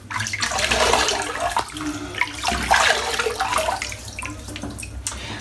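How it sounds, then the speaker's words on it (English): Cold water splashed by hand onto the face at the start of a wet shave with no prep; close, continuous splashing and sloshing with a few brief pauses, no talking. "That's the first time water's hit my face"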